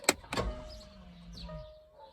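Electronic parking brake on a 2012 Range Rover Sport SDV6 releasing: two quick clicks, then a soft whirring motor hum that slides and fades, quiet and close inside the car.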